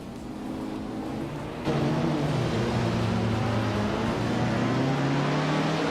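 Video game race with modern F1 cars and 1960s cars, including a 1965 Ferrari 1512, on a track with a chicane. A loud engine drone abruptly grows stronger and holds steady while pitch shifts under throttle.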